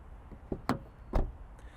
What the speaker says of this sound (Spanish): escucha cómo suena la puerta trasera.